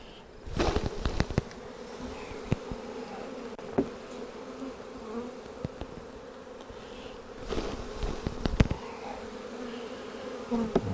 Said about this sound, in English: Okay, so the field bees are flying out.